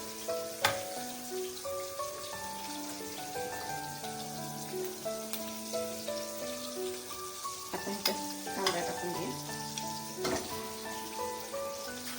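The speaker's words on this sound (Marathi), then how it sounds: "परतून घ्यायचा लालसर झाला पाहिजे" Raw banana is sautéed in a pan, a faint continuous sizzle with occasional stirring clicks under tonal background music.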